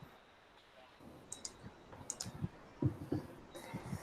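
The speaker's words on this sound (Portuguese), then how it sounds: "Tô digitando aqui já." Keys click on a computer keyboard while someone types code, with sparse, irregular taps that start quietly and grow denser, over faint room noise.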